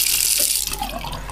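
Water from a sink tap pours in a loud, steady hissing stream close by, with faint splashing near the end and no voices.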